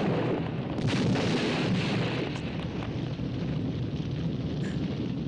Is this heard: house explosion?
yes